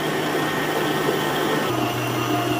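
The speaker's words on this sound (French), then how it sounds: "Et je laisse pétrir." A stand mixer kneading Moroccan bread dough, giving a steady loud motor hum and whir with a slight shift in pitch partway through and no talking.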